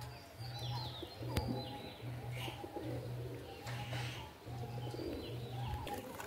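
Pigeons in a loft coo in a steady, regular series of low throaty calls, about eight evenly spaced, continuing under light background noise with faint voices.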